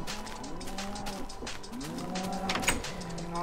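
Cows in Minecraft moo repeatedly in a survival-mode beef farm, with several drawn-out, overlapping lowing calls close by and no talking.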